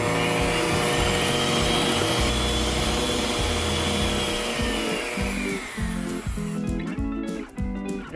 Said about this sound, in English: we're now adding milk to our egg yolk mixture and mixing it until combined.